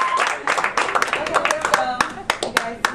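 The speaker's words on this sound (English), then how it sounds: "Clap." Scattered hand claps from a small audience at a panel discussion, uneven and sparse, mixed with talking voices over them.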